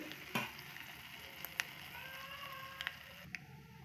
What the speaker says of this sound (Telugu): పోపు గింజలు ఏగుతున్నాయండి